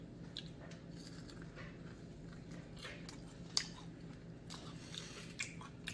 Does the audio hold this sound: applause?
no